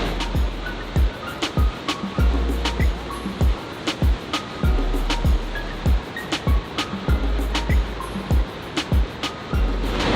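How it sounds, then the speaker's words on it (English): Shoshone Falls in Idaho roars steadily, a dense, loud wash of falling water filling the whole stretch, with faint intermittent clicks and knocks on top and no talk. "Listen to that sound of that water. It's powerful."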